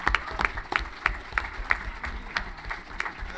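A panel audience applauds with scattered, moderately faint claps in an uneven rhythm that continues steadily throughout.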